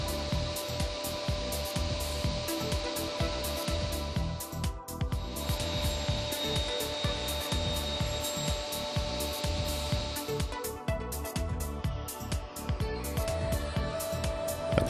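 A Hammer C3 31 combination machine saw cuts wood pieces to length, giving a steady loud whirring drone with rough rasping texture throughout, close and continuous.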